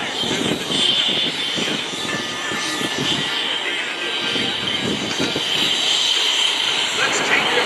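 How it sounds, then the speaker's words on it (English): A small air show plane flown by pilot Tom Larkin taxis past at the 2024 MCAS Cherry Point Air Show, a steady loud engine drone with crowd noise and talk over it. "He's going to come back into the pit, but he's going to taxi by."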